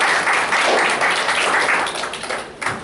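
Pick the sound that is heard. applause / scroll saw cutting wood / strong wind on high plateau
applause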